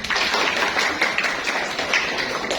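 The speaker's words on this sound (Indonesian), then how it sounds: "Tepuk tangan 2 kali. Kalau 3 berarti 1 3 2 tepuk tangan semuanya." A sociology class of students claps hands together in a counted pattern, a dense run of sharp, overlapping claps that carries on steadily without pause.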